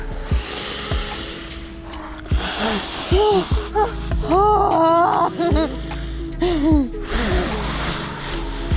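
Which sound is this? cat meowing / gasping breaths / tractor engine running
gasping breaths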